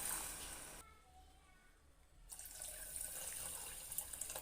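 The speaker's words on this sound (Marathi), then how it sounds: "त्याच वाटीने मी पाणी घालणार आहे" Water is poured from a small bowl into sugar in a pan to make syrup for gulab jamun: a splashing pour, a brief quiet gap, then a second pour.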